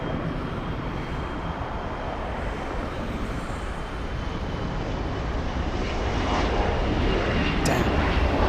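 A large airliner's jet engines roar steadily at LAX, a loud, even broadband rumble that swells slightly toward the end, with no talking.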